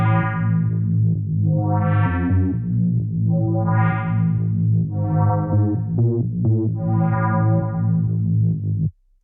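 A UK garage synth sample with a constantly moving LFO filter that sweeps open and closed in repeating waves, each pass brightening then dulling, played alone and loud before cutting off abruptly.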